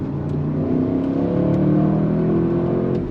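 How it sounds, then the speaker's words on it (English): Audi RS 6 GT wagon heard from inside the cabin while driving: a steady, muffled engine and exhaust drone with low burbling, faint crackle pops rising now and then over the hum. "The exhaust is mild in here, but crackling and burbling."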